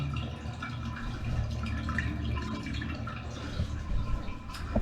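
Water draining down a bathtub drain that was backed up and just cleared: a continuous gurgling, trickling rush with small splashes and drips, close and moderately loud, no talk.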